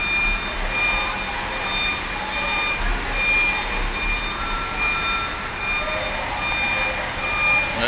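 A Scania truck backs up while being unloaded, its steady reversing beeper repeating as a continuous high tone over a busy depot rumble with constant background noise.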